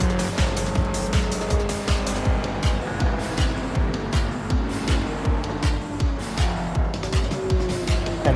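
Several race cars in a racing video game roar at close range, with engines revving in steady pulses and tires squealing as the cars jostle, one car outdragging two others with a Camaro nearby.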